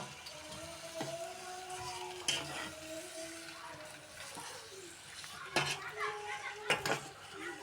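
Tomato fries with onion in a pan with a faint sizzle. Sharp clinks of a utensil against the pan and scattered kitchen clatter cut across it, and a voice speaks at times.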